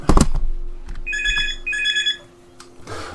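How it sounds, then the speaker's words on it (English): A telephone rings in two short electronic bursts of bright tones, with thumps and other game sounds around it in a Team Fortress 2 session. "Oh, phone call."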